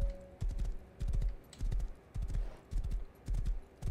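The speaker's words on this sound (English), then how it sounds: "is that another horse?" Horse hooves clip-clop in the survival video game Rust, a brisk, evenly paced run of hoof beats in close groups of strikes, moderately loud and heard alone without speech.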